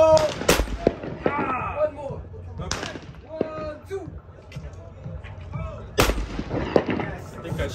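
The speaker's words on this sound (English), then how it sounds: "Shooting the guns. It's very loud." Shotguns fire at clay targets at an outdoor combat-themed shooting range in Riyadh, giving several sharp, loud blasts spaced irregularly, with people talking and calling out in between.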